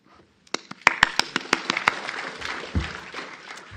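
An audience at the Malvern Diabetic Foot Conference symposium applauds to welcome a speaker: a few sharp, separate claps, then a dense, steady round of clapping that slowly thins out.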